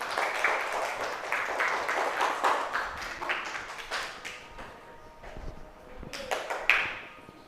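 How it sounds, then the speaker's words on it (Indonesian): Classroom students clap for a group after its presentation, several bursts of clapping that thin out and fade, with a few scattered taps near the end. "Tepuk tangan untuk kelompok 1."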